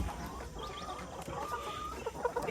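Chickens cluck and murmur nearby while drinking water, in a steady stream of short calls, with a busy farmyard background.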